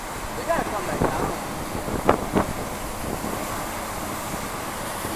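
Hurricane-driven surf and gusting wind roar steadily along a shoreline, with a broad constant rush and a few sharper wave crashes, while people speak briefly over it.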